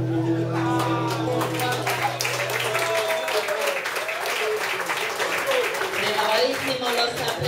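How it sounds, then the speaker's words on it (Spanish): Steady applause from an audience at a folk music peña's season-closing show, a dense wash of clapping throughout, with a sustained low musical tone fading out in the first few seconds. "Bravísimo los aplausos, Juancho Trovador."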